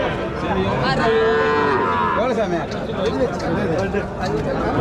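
Heifer cows low loudly at a crowded cattle market, several drawn-out moos overlapping amid a busy hubbub of people chattering nearby.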